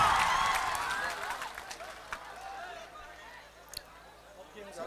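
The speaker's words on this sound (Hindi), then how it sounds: "इसके लिए जोरदार ताली के साथ।" A crowd at a political rally claps together in a loud, dense burst that slowly fades out over several seconds, with scattered chatter and a few isolated claps remaining at the end.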